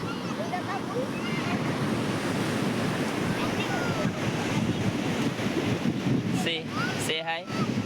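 Ocean surf rolls and washes steadily at Sitapalem Beach near Anakapalle, with wind buffeting the microphone throughout and faint voices in the background.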